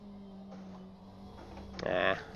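A McLaren 720S GT3 race car engine in the rFactor 2 racing game at Zandvoort drones steadily, then swells into a louder, brighter rev for a moment before easing back.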